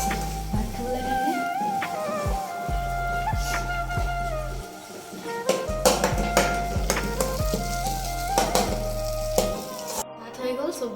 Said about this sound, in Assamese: বিলাহী আৰু ডিম ভাজি বনাইছোঁ